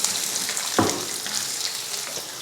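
Chana dal frying in a pan with a few curry leaves until golden for masala dosa, a steady soft sizzle close up, with one brief scrape or clatter near the start.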